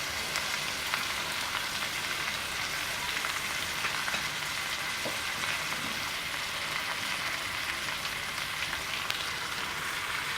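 Goat brain masala fries in a pan, a steady dense sizzle that crackles continuously and evenly at close range with no voices.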